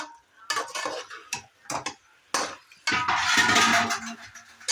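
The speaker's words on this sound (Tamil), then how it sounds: "போட்டுட்டு ஒரு கிளறி விடுறேன்." Salted chicken pieces are stirred in a metal pot for biryani, producing close, clattering scrapes and knocks of a utensil in a few distinct strokes, then a denser rattling burst.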